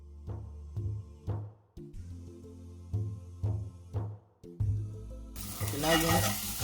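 A steak drops into a hot pan and bursts into a loud, close, crackling sizzle that builds and holds for the last second or so, following several rhythmic, pulsing sounds.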